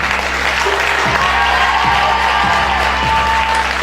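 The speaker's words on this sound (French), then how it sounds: "avec vos applaudissements, accueillir la première candidate" An audience at a Miss Aisne 2018 beauty pageant applauds to welcome the first candidate, loud sustained clapping from a large crowd under a steady hum, with faint cheering mixed in.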